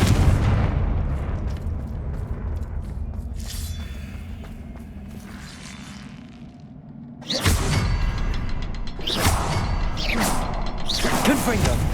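Fiery Confringo spell blasts in the Hogwarts Legacy video game, a sudden loud burst at the midpoint followed by further crackling impacts over a constant rumbling game score, with a voice calling out between them.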